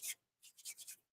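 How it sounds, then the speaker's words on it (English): A sanding stick rubs across a small scratch-built wooden fence model: one short rasping stroke, then a quick run of several soft scraping strokes, close and quiet with no voices. "I have my sanding stick"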